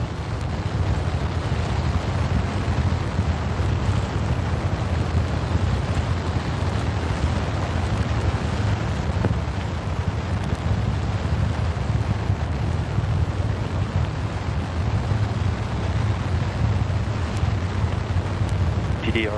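The four engines of the Artemis moon rocket fire in a hot fire test, making a loud, unbroken, broadband roar that holds steady and dense throughout.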